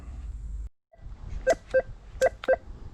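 Metal detector in a forest dig, giving four short, loud electronic signal tones in an uneven rhythm after a brief silence, close and alone with no talk.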